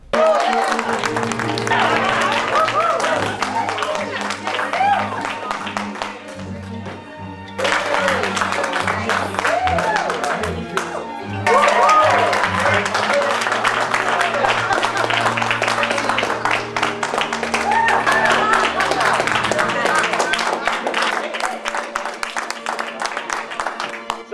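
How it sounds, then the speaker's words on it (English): Applause from a meeting room crowd in the film Birdemic, after news that a company sold for a billion dollars. Loud, sustained clapping runs on and on, breaking briefly before starting again. "so everyone claps for an hour"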